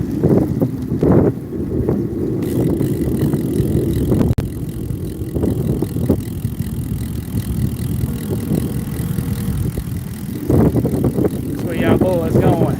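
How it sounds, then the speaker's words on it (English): Steady wind roar buffets the microphone as cyclists ride road bikes outdoors, a broad continuous rush throughout with people talking over it at several points. "You can feel it in the wind too. See, now the wind pushing against us now."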